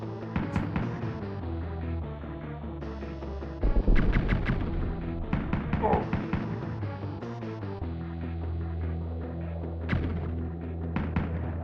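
Repeated gunshots in a video game, crisp sharp cracks fired in short clusters over a steady bed of game music, with one heavier burst near the middle and a few isolated shots toward the end.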